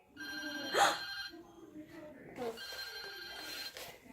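Telephone ringing indoors, short bursts of an electronic ring repeating at intervals, moderately near, with a person talking over and between the rings.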